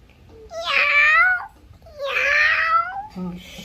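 A young child imitates a cat with two drawn-out, whiny meows, loud and close, followed by a brief murmur.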